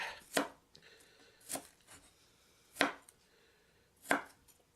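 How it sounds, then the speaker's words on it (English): An onion for goulash is chopped into coarse pieces with a knife on a board: four sharp, spaced knife strikes with quieter taps between, close up and with no voices. "I like to have my onion with just a little bit of size, so I don't chop it up super small."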